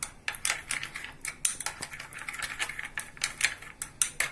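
A spoon stirs mayonnaise and tomato sauce together in a bowl to make a burger sauce, giving close, repeated light clinks and scrapes of metal against the dish in an irregular rhythm, with no voices.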